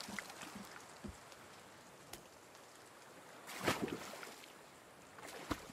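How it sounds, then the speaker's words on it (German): Steady rain falls in the video game The Forest, a soft even patter with scattered sharper drops and no speech. "dass jetzt auch noch angefangen hat zu regnen"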